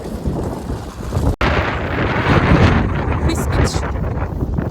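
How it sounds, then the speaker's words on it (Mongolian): Wind buffets the microphone in strong, rumbling gusts in Iceland at about 10 degrees, briefly cutting out once, with faint voices underneath. "Гэхдээ амар салхитай л юм байна."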